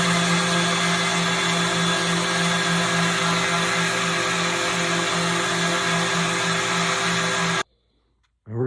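Power sander runs steadily on a canoe deck, a loud continuous whir with a constant hum that stops abruptly near the end.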